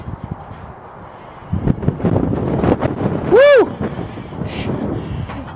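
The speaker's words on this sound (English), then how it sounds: "It is windy." Gusty outdoor wind buffets the microphone in loud, rumbling bursts while a Yarbo robot is being run on grass, with a brief tonal whine rising midway.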